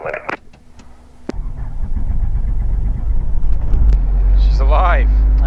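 A training helicopter's engine starts up: a low rumble kicks in after a click and builds steadily in strength, loud and close, while a voice speaks over it.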